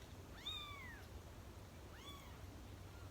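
A kitten gives two short, high, clear meows about a second and a half apart over a faint low background hum.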